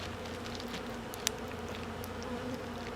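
Honey bees buzzing around a weak hive during cleanup: a continuous low, dense hum of many insects with a faint click partway through, steady and close.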